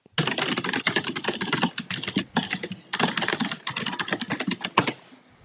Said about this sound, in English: That is one loud ass keyboard.